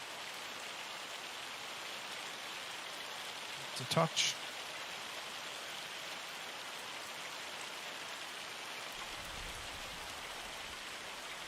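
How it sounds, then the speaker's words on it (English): Loud hail falls without pause in the Farming Simulator 25 video game, a dense, even hiss like heavy rain that fills the whole clip, with a brief spoken remark partway through. "It's hail, mate, not rain. The hail is really loud."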